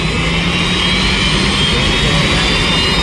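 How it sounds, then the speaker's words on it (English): A T55 turbine engine on a modified-class pulling tractor at a tractor pull in Bowling Green, Ohio roars in a loud, steady jet-like whine and rush, close and constant with no talking. "he'll let one of those T55 turbines fired up. We'll fire up the second turbine."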